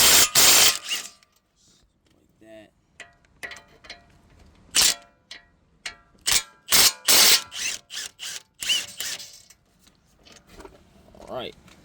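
A ratchet fitted with a 22 mm socket works loose the brake caliper bolts on a 2011 Infiniti EX35, giving short bursts of clicking ratcheting amid clanks and tool handling, with someone talking in between.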